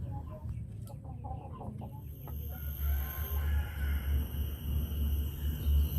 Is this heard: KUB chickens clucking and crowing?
yes